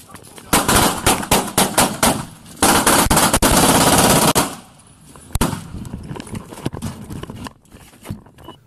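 Bodycam footage of an officer shot in a doorway carries rapid bursts of close, loud gunfire, dense clusters of sharp shots broken by short pauses, then scattered single reports and commotion.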